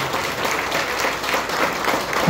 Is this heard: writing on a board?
no